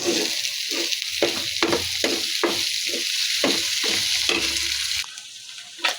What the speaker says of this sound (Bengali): ডিমটা আমি ভেঙে দিয়ে দেবো।